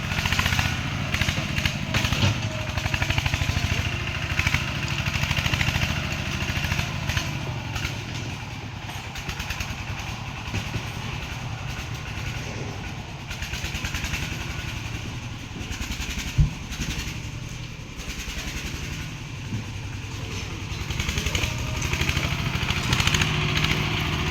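A motorcycle engine revs hard and steadily for the whole stretch, loud and close, with sustained throttle and a single sharp pop near the middle; no one speaks.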